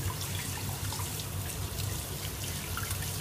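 Tap water runs steadily into a sink while cuttlefish are rinsed clean of slime, a continuous close splashing stream with no talk.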